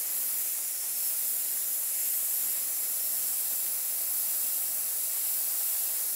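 An airbrush sprays paint with a steady, close hiss of air and paint that holds unbroken for several seconds, with no talk.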